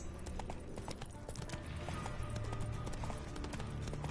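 Hooves of the horse Roach clatter in a fast galloping rhythm in Witcher 3, a steady clip-clop running throughout at moderate loudness.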